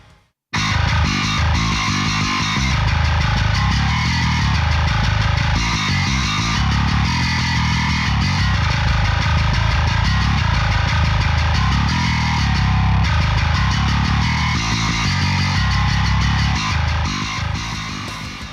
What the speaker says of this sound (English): Here's how the bass sounds on its own.